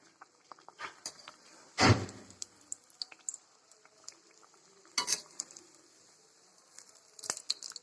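Snacks fry in a little oil in a home kitchen, faint bubbling sizzle with sharp scraping and stirring clatters of a utensil, one loud burst near the start and more later.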